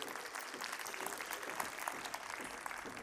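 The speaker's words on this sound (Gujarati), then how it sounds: "दोस्तों, एक बार जोरदार तालियां हो जाए फॉर द एंटायर फैमिली" A crowd applauds the Patel family at a 100-year celebration of Patel Farm & Nursery, with steady, dense clapping that continues for the full three seconds.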